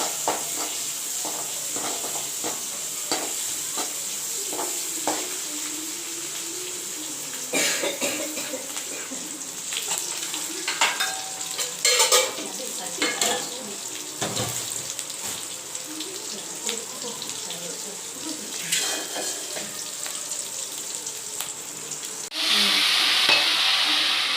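Onion, curry leaves and okra sizzle in hot oil for vendakkai pachadi, a steady close frying hiss broken by stirring clatter and a cough, with a louder burst of sizzling near the end.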